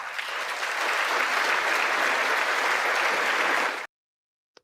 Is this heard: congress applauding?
yes